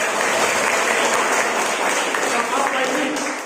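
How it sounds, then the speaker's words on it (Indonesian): Congregation at a church worship service bursts into steady, dense applause, loud and close, filling the space throughout without any talking. "Boleh tepuk tangan dong."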